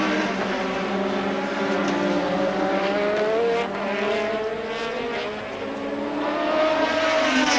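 Formula One race cars at the European Grand Prix at the Nürburgring scream past with sustained high-pitched engine wail, pitch shifting as several cars pass, loud and continuous.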